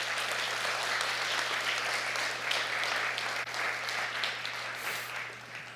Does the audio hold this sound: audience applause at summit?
yes